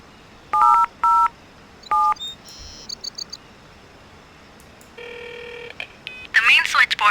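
Telephone keypad tones sound as a phone is dialed in the jungle setting of Jurassic Park: Trespasser: a few clear beeps, a short warble, then a longer steady tone, mixed with faint bird chirps and other game sounds.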